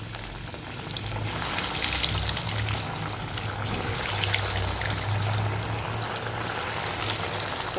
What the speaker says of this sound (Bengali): লাল লাল করে ভেজে নেব।